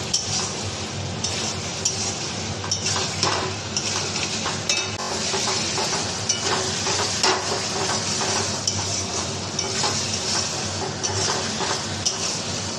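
Chicken gravy sautés in oil in a pan. A continuous sizzle runs underneath while a utensil stirs and lightly clinks against the cookware, steady and close, with no voices.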